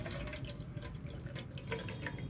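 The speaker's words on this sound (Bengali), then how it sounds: "দেখো বন্ধুরা, গোপালকে স্নান করাতে চলে এসেছি।" Water pours and drips steadily while a Gopal idol is bathed during home worship, a close, continuous trickling and splashing with no voices.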